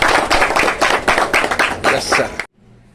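Teachers at a school felicitation clap together in a dense, close burst of applause lasting over two seconds, then stopping abruptly into near silence.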